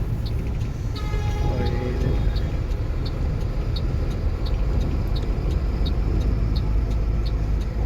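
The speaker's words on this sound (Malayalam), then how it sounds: "നല്ല ട്രാഫിക്" Heavy traffic rumbles along a rainy, badly surfaced highway in Gujarat, heard from inside a truck as a constant low engine and road drone with faint regular ticking, while someone talks over it.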